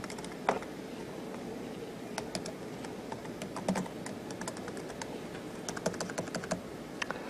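Someone types a password on a computer keyboard, producing irregular bursts of crisp, close key clicks with short pauses between them over a quiet room background.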